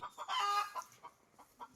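A chicken clucks close by in a few short, bright bursts with a longer squawk near the start, the calls separated by quiet gaps.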